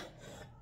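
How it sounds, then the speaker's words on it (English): A woman gives a single sharp, loud cough after eating spicy pizza, bursting out abruptly at the end of a quiet stretch. "I knew I was about to start coughing."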